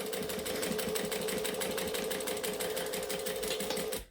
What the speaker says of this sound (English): And then I am just going to stitch that line, again, from bottom to top.